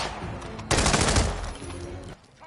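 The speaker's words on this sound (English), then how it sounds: "can you stop shooting at me when I'm sneaking?" Burst of automatic gunfire in the video game Hitman 2, a loud, dense rattle of rapid shots that swells and then drops off within a couple of seconds.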